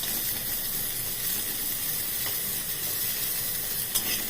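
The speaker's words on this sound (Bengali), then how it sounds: "তার সাথে একটু নুন দেব, একটু সামান্য হলুদ দেব, দিয়ে আমি এটাকে ভেজে নেব।" Young jackfruit frying in oil with salt and turmeric, giving a steady, close sizzling hiss with no break for several seconds and a faint clink near the end.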